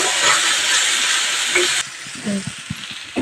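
Okra (ladies' finger) frying in oil in a pan gives a loud, steady hiss that drops abruptly partway through to a quieter sizzle broken by a few soft clicks and knocks.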